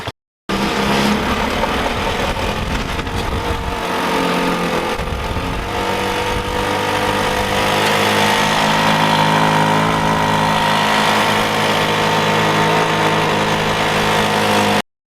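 A Yerf Dog Spiderbox go-kart's small engine runs loud and close for about fifteen seconds, idling and then revving with a steady buzzing drone.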